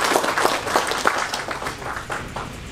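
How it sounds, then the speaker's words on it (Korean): Applause from an audience welcoming guests at the 16th Nogunri Peace Prize award ceremony, a steady indoor clapping of many hands that runs throughout, moderately loud and without talk. "박수로 맞이해 주시기 바랍니다."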